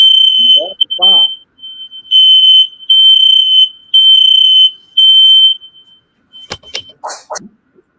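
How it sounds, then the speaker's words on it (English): A smoke detector in a home loft shrieks in repeated high-pitched beeps, loud and steady, with someone talking briefly before and a few clicks and movement noises after. "Well, at least my fire alarm worked."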